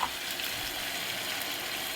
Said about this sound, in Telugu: ఇప్పుడు వీటిలోకి మనం ముందుగా మిక్సీ పట్టుకున్న ఉల్లిపాయ, టమోటా గ్రేవీని కూడా వేసి బాగా మిక్స్ చేసుకుందాము